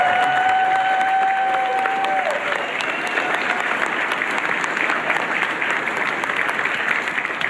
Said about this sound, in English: I would like everyone to give all of our teachers a big round of applause for that.